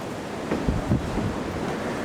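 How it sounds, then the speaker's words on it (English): Strong wind gusts buffet the microphone outdoors in Australia, a steady loud roar with a few heavier bursts in the middle and no talking. "Very windy, so we haven't been able to get the track of birds."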